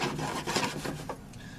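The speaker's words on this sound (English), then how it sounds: "We just use a hacksaw." A hacksaw cuts off a pipe nipple during a crawl space pit install, giving a short burst of rasping saw strokes close by with no talking.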